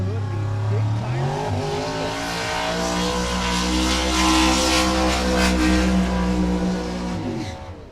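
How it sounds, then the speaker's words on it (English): A 1972 Chevelle running a Fulton motor with an Induction Solutions nitrous system does a long burnout at Cordova Dragway. The engine roars loud and steady, tires squeal, and the rear wheels spin continuously for several seconds before the sound eases off at the end. "Look at a big long burnout."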